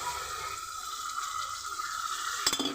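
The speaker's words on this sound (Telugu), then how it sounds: "నేను వాటర్ పోతున్నాను." Water splashes steadily into a pan of tomato and cucumber curry, a continuous pour with a brief clatter near the end and no talking.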